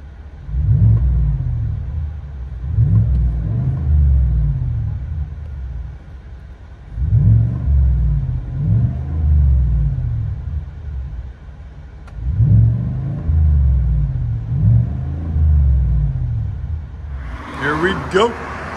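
A 2019 Chevy Silverado High Country's 6.2L V8 with a Dynomax Ultra Flow exhaust revs from inside the cab, four deep rumbling blips rising and falling, with a brief spoken word at the end.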